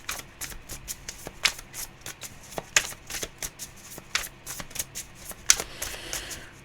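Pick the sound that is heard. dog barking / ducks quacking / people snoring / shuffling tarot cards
shuffling tarot cards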